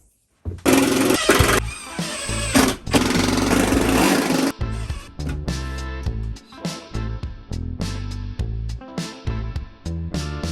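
A power drill drives screws into a wooden workbench in a workshop, with loud sustained whirring bursts followed by a series of shorter stuttering pulses as the screws seat, close up.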